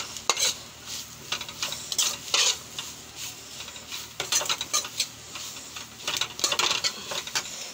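Spices and chilli masala cook in oil in a pan for homemade noodles, a low sizzle under repeated clinks and scrapes of a spoon stirring against the metal.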